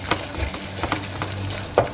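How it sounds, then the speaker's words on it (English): A vegetarian moussaka béchamel sauce is stirred in a pot, with a soft simmering hiss under several irregular scrapes and taps of a spoon and one louder clink near the end, heard close up. "So I will let it to boil a little bit more and just keep stirring on it"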